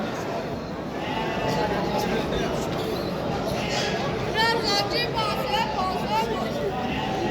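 Sheep and young rams bleat at a busy livestock market in Istaravshan, several calls rising over a dense, constant crowd hubbub and people chattering close by.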